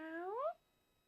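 A human voice imitates a happy, content cat meow, one short rising and falling mew sung alone, close and clear, then silence.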